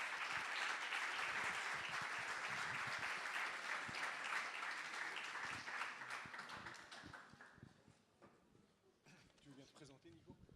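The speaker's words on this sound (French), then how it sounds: "pourrait applaudir Pierre pour sa présence ce soir" An audience at a cultural-policy music forum applauds Pierre, the clapping loud and dense at first, then thinning out and fading over several seconds into scattered claps and quiet room noise.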